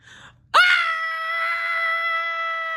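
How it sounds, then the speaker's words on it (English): A single high, sustained cartoon scream from boys in a SpongeBob story, bursting in loud after a brief quiet start and holding steady to the end. "The boys screamed as the Cyclops stuffed them into a dark and scary bag."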